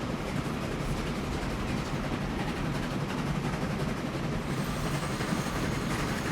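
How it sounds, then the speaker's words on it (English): Goods train rolling along in the video game Transport Fever 2, a continuous rumbling rail noise with clickety-clack and a faint wheel squeal near the end, steady and alone without speech. "So there's our goods train."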